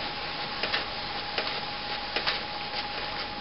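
A Canon MP610 inkjet printer runs a page through, giving a steady mechanical whir with a faint high tone and soft regular clicks from the print head and paper feed, close and alone.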